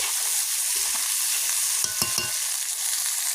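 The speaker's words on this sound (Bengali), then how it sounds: "জিরে লঙ্কা বাটা আর আদা বাটাটা দিয়ে দিলাম এটাকেও সামান্য কষিয়ে নেব দু তিন মিনিট" Cumin, chili and ginger paste sizzles steadily in hot oil, with a few brief stirring scrapes partway through and no talking.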